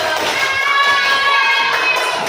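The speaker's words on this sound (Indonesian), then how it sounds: "Tepuk tangan dulu." Children in a classroom clapping their hands together, a dense, steady burst of applause with some crowd noise, loud and close for a couple of seconds.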